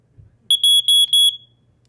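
An older smoke alarm built on a common circuit board gives four shrill, piercing electronic beeps in quick succession, each a steady high tone, very loud and close with near silence before and after.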